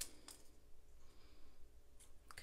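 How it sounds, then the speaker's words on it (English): Scissors cutting along a traced line in white paper during a card-making craft, giving a few soft, close snips at the start and end of a quiet stretch, with no talking. "take your scissors and just follow along that line"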